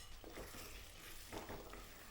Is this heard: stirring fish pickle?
yes